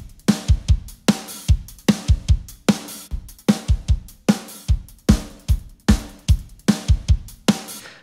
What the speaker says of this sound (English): I've got the kick, snare, the toms, and then a little bit of overheads and rooms being sent to my parallel compression send.